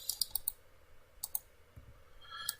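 Sharp computer mouse clicks during AutoCAD 3D modeling, arriving in small quick bursts at the start, middle and end, close and fairly quiet with no voices.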